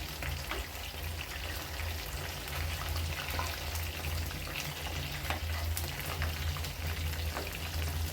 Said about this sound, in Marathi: हे बघा, तळती किती सुंदर आपली कंटक्की.